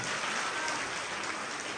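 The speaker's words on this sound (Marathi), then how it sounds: "जोरात टाळ्या वाजवा." A crowd claps at a lively village women's game show, a dense, even patter of applause filling the short stretch without a break.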